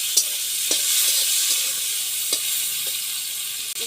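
Tomatoes and salt frying in a pan for a katla fish and cauliflower curry give a steady, close sizzle, with a few sharp utensil taps spaced through it.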